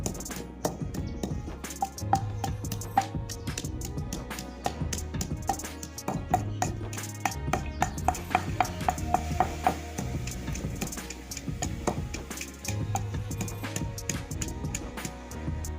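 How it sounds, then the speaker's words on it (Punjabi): Green chili and coriander pounded by hand for a radish and tomato chutney, a long run of rapid, close, rhythmic thuds with brief pauses between bursts. "ਹਰੀ ਮਿਰਚ ਤੇ ਧਨੀਏ ਨੂੰ ਆਪਾਂ ਕੁੱਟ ਲਵਾਂਗੇ"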